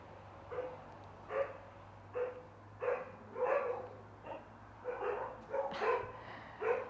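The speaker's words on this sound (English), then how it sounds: "Just ignore the barking." A dog barks repeatedly at a moderate distance, about ten sharp barks in irregular bursts over a steady low hum, with no talking.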